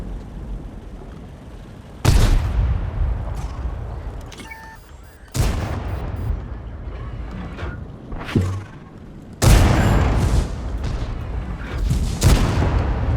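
The ELC EVEN 90 French premium light tank fires its gun repeatedly while driving in World of Tanks, four sharp, loud cannon blasts spaced a few seconds apart, each with a rumbling tail over a steady engine hum.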